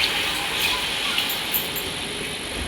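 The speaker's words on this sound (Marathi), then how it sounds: "आता आईन टाकल्यान थोडंसं पाणी." Water poured into a cooking pot of Malvani jackfruit vegetable (fansachi bhaji), a steady broadband splash and hiss running continuously at moderate loudness.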